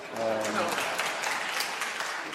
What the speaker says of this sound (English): Actually, I thought I would get more applause, but there.